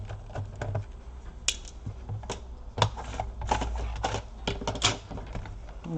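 Screws being removed from the back panel of a Lenovo IdeaPad 320 laptop, a run of small sharp metallic clicks and ticks at close range, irregular and fairly quiet, with no talking.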